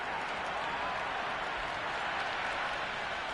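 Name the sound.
crowd cheering in cricket video game E-PSL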